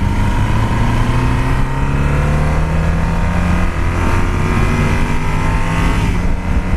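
Yamaha Super Tenere motorcycle engine running steadily on dry roads, a loud, continuous rumbling drone with a slightly rough, agricultural character, holding an even pitch throughout with no speech.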